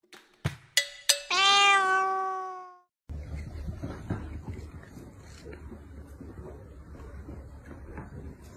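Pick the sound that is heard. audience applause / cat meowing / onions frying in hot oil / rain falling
cat meowing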